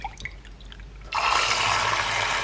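A handheld milk frother whirs steadily in a bowl of matcha tea, starting abruptly after some light clinks and handling sounds, then continuing as a loud, even buzzing swish.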